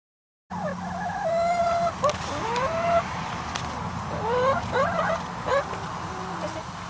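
Chickens in a cage setup cluck and chatter continuously, several birds calling close by with rising and falling notes over a steady low hum from the room.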